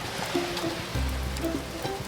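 Steady rain falls outdoors near a Florida spring and sinkhole, a dense even hiss with low rumbling underneath and faint tonal hums, no talking.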